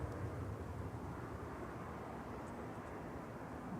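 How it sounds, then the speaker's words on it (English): An Aer Lingus ATR 72 turboprop taxis at Manchester Airport, producing a steady, broad low engine rumble that holds at an even level for a few seconds without a break. "It's got another ATR 72 taxiing over for Aer Lingus."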